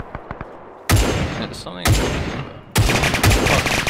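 Bursts of rapid SMG fire from two enemy positions crack out in a video game set at the Battle of Wake Island, three loud sustained volleys separated by short gaps, with a player speaking briefly between them.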